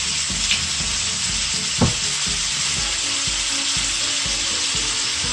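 Vegetables for a French Creole pickle frying in a pan, a steady loud sizzle with occasional stirring clatter, continuous and close, no voices.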